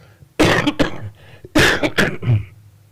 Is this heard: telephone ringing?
no